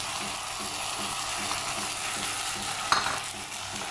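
Tomatoes stir-fry in a hot pan, a steady loud sizzle with regular scraping strokes of the stirring utensil and one sharper clatter near the end, with no talking.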